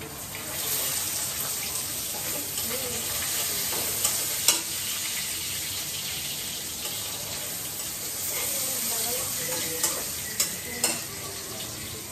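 Onions and carrots sizzling in a pan for chowmein noodles, a steady close frying hiss with occasional sharp clicks of stirring, and no talking.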